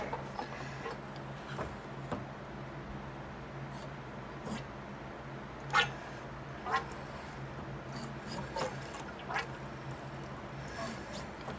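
The fork on a Harley-Davidson Super Glide sucks air during an oil change, giving soft, intermittent gurgling slurps and ticks over a quiet background, with a few sharper pops spaced irregularly and a voice at times.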